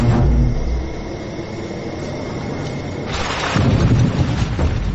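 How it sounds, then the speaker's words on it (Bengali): Thunder rumbles through a Panama jungle in the rainy season, a low continuous roll that swells louder near the end, with no voices. "আর এই বাজ পড়ায় অবস্থা আরো খারাপ"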